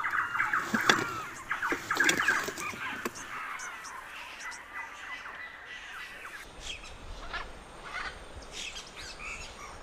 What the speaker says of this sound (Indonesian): beberapa burung di sini.